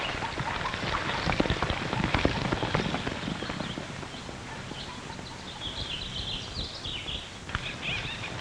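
Hooves clip-clop at a moderate distance, irregular knocks over a soft hiss like light rain, with faint bird chirps drifting in later.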